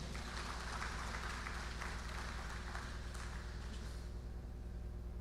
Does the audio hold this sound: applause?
yes